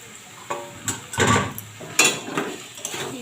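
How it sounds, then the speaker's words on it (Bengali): Fried paneer and potato pieces drop into a pan of masala, giving a few close clattering thumps and a brief sizzle, followed by lighter scraping and stirring knocks. "এবার আমি দিয়ে দেবো পনির আর আলুটা, আগে থেকে ভেজে রেখেছিলাম যেটা"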